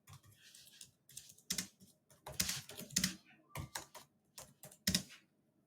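Bursts of typing on a computer keyboard as a remark is entered into a procurement request form, keys clattering in quick clusters with short pauses, close and fairly quiet, no talking.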